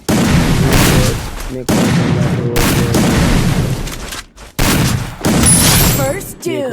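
Gunfire in the Free Fire video game, loud near bursts of shots and booming blasts in long dense stretches broken by brief pauses, with a short sweeping tone near the end.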